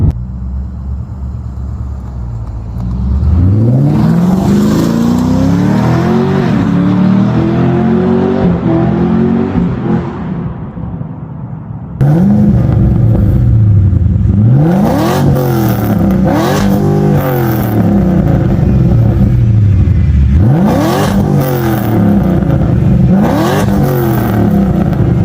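A Ford BA Falcon XR8 V8 fitted with ceramic-coated Pacemaker Tri-Y headers is driven hard on a damp road. The engine revs loudly and close by, climbing repeatedly through the gears with rising and falling pitch.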